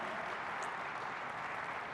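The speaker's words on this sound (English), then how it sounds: "Please give a big round of applause to Amir." A large keynote audience at a technology conference claps, a dense, even wash of applause heard from a distance, with no voices over it.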